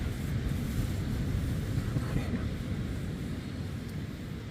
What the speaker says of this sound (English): I can still hear the soothing sound of the waves in the sea